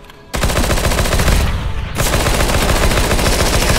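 P90 submachine gun fired in the game CS:GO, heard as loud, rapid, continuous automatic bursts with a brief pause partway through before the rattling fire resumes.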